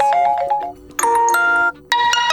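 The default Triumph notification tone on a DOOGEE S95 Pro phone, a bright, loud electronic chime of rising tonal notes that plays in short bursts separated by brief gaps, with no talking.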